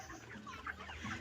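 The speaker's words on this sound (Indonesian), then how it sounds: "Ayam potong sing sehat." Broiler chickens on a small home farm cluck and murmur softly, several birds overlapping in close, steady low chatter with no voices.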